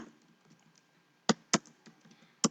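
SQL code is typed on a computer keyboard: a few soft key taps, then three sharper, louder isolated key strikes spaced apart, close and quiet otherwise.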